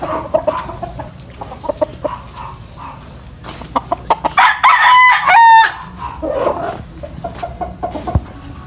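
Gamefowl roosters of a Mount Banahaw straight-comb line crow on a game farm: one loud, close crow rises midway amid scattered clucks and short calls from the birds around it.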